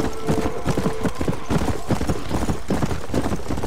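Horse hooves clip-clop steadily and loudly in the Red Dead Redemption: Undead Nightmare video game, a dense, continuous galloping rhythm over game ambience with no talk.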